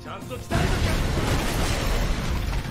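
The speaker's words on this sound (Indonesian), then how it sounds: "Setelah Sanosuke mengalahkan Yukyujan Anji, tiba-tiba terjadi ledakan di dalam kapal." A sudden loud boom from a cannon-fired explosion aboard a ship in the film Rurouni Kenshin: The Legend Ends breaks in and swells into a sustained roaring rumble that carries on for several seconds.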